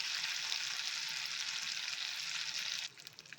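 Fish fries in hot oil in a pan, giving a steady bright sizzle at close range that drops off sharply near the end.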